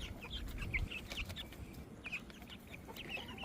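Young frizzle chickens in a coop giving soft, rapid clucks and peeps in scattered clusters, close and fairly quiet over a low background; no talking.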